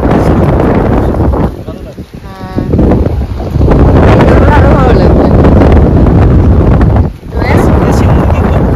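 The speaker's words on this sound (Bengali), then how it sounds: "বেশ হাওয়া দিচ্ছে।" Strong wind buffets the microphone in loud, roaring gusts by the sea on Mousuni Island, with people talking briefly underneath.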